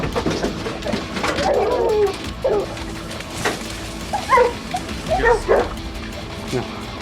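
Several dogs bark and yip in short, irregular bursts, fairly close by, with occasional whimpers and a few birds in the background, while people talk over the noise outdoors.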